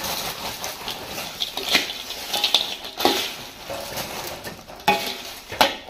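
A spatula scrapes and stirs sweet and spicy cassava or sweet potato chips through a wok, with irregular rustling crunches and metallic scrapes in uneven bursts, close and fairly loud.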